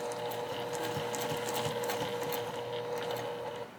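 Sewing machine running slowly and steadily while stitching a bulky foam bag, a continuous close mechanical whir with rapid ticking needle strokes throughout.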